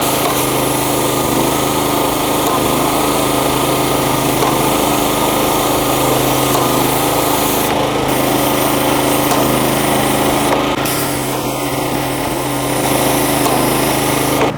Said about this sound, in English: the paint machine is set up, we're ready to go. Got the revs up